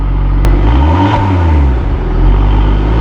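A sports car engine revs loudly and close with its exhaust valves open, the exhaust rising and falling with a few sharp crackling pops as the revs drop.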